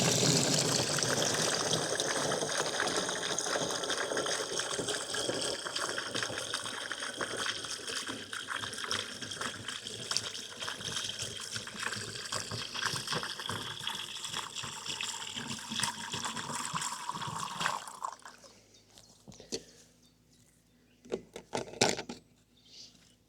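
A garden hose runs a steady stream of water into a water tank at an off-grid camp, a continuous rushing flow that fills most of the stretch before cutting off, leaving a few faint knocks and handling sounds.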